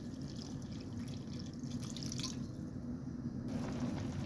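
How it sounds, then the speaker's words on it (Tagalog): Water poured into a cooking pot of softened chicken for a mung bean dish with squash and moringa leaves, a steady close liquid pouring and splashing sound running throughout, with no talk. "Mag-add tayo ng water."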